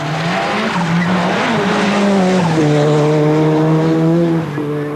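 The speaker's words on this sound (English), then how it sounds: "Jimmy McRae, car number 1, blasting his way down to 6 times, went a little bit sideways there" A Ford Sierra Cosworth rally car, driven by Jimmy McRae on a wet stage of the 1989 Circuit of Ireland, holds a loud sustained engine note that rises and shifts as the car slides sideways, near and continuous.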